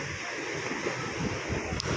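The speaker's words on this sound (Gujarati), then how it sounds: "તો મોજા જો" Sea waves wash and break on Madhavpur beach, Gujarat, a steady surging roar mixed with wind rumble, no talking.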